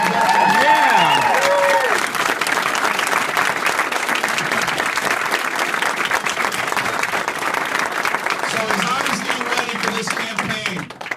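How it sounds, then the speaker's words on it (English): Applause for veterans at a campaign rally in Soldotna, Alaska: a dense, continuous crowd clapping that holds loud for about eleven seconds, with a few cheers and voices mixed in near the start and end. "How about a round of applause for our veterans?"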